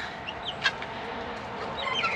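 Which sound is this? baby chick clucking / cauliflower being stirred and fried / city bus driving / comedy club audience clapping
baby chick clucking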